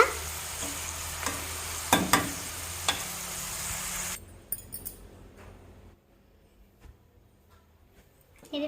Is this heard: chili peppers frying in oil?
yes